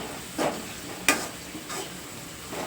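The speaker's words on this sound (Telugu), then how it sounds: "పసుపు కూడా ఆయిల్లో బాగా ఫ్రై అయితే మంచి కలర్ఫుల్గా ఉంటుంది కర్రీ" Turmeric frying in hot oil for a crab curry, with a few soft sizzling swishes as a spoon stirs the pan, one sharper scrape in the middle, fairly quiet and with no talk.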